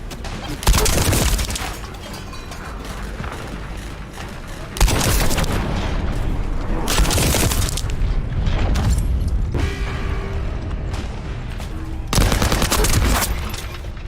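Bursts of automatic gunfire in the shooter game The First Descendant, loud dense volleys separated by short gaps and backed by booming impacts and explosions.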